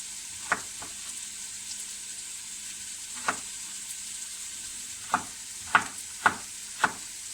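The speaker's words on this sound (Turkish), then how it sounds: "Bu arada yemeğimizi karıştıralım yanmasın" A spoon scraping and knocking in a pot of vegetable soup with potatoes, carrots and onions, six or seven separate clinks spread irregularly over a soft low sizzle, fairly quiet and close.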